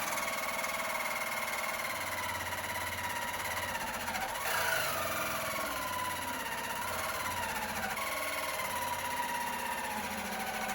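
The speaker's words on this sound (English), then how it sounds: "the jigsaw kept on sounding like it was about to die" An old jigsaw cuts a wooden katana blade, a continuous buzzing, vibrating motor whine heard close and steady, with the pitch sagging and wavering midway as the blade strains under load; no talking.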